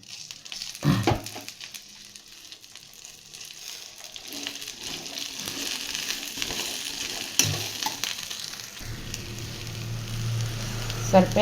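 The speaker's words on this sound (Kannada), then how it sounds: "ಅಷ್ಟೊತ್ತಿಗೆ ಬೆಂಡೆಕಾಯಿ ಫ್ರೈ ಮಾಡ್ಕೊಳ್ಳೋಣ" Okra frying in a spoonful of oil in a pan, sizzling steadily at close range with scattered stirring and scraping; the frying grows louder and more continuous toward the end, and no one speaks.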